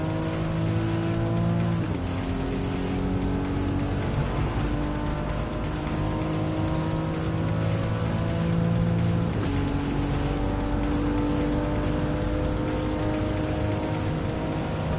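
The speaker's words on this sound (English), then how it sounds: "Now, time to catch up on to Kokubun in position 1 in the RX-7." Race cars in Gran Turismo 7, including a Mazda RX-7, roar continuously with high revving engines, gear-shift pitch drops and brief tire squeal, loud and close throughout.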